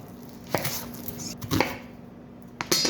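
Onions are cut into pieces, with three distinct close chopping thuds spaced about a second apart over a quiet background, and no talking.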